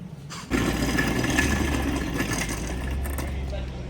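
A car engine in a video game is started in and settles into a steady idle, a sudden onset followed by a continuous low rumble that holds at moderate loudness.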